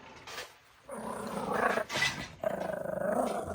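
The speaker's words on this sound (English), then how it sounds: "He's an angry dog." Beastie, an angry farm dog, growls loudly and close in several rough, rumbling bursts separated by short pauses.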